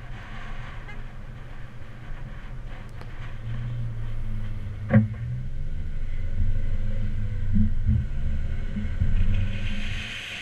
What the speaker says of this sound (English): Alright, here the car is up to speed